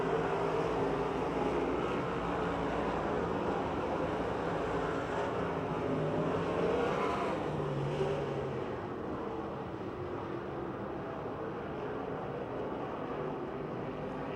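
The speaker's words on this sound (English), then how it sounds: "Kevin Miller now putting the pressure on Tom Martinek for second with a lap to go." Race cars at Pennsylvania Motor Speedway in Pittsburgh roar past on the track during the final lap, a continuous distant engine drone that swells and fades slightly.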